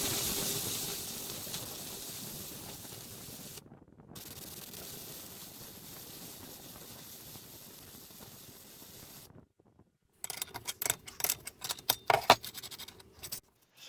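A welder works on a steel bracket for a homemade angle grinder table mount, producing a long, steady hiss that breaks off briefly, then returns as harsher, irregular crackling bursts up close.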